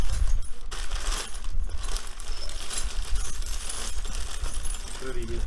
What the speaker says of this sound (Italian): Siamo dadi e bulloni, ragazzi.